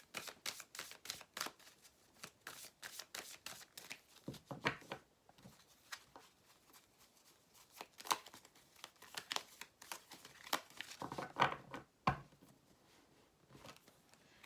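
Oracle cards are shuffled close by in dry, rapid flurries of riffling and crinkling, in bursts with short pauses, quiet and without talk.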